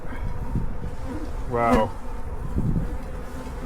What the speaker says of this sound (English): now we got bees